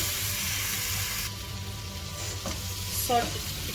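Onions and a large tomato sautéing in a pan for chicken dum biryani give off a steady close sizzle, with a few soft stirring scrapes near the end.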